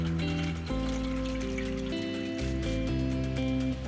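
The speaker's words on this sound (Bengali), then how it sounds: "আমি এটা পানিটা দেখুন ছেঁকে নিচ্ছি ছাঁকনি দিয়ে।" Soaking water for a yakhni white chicken biryani is strained through a kitchen sieve, giving a steady, close trickle and patter that runs beneath loud background music.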